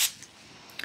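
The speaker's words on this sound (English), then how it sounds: "A spray bottle." A spray bottle gives one short, hissing spritz close by, then quiet, with a couple of faint clicks near the end.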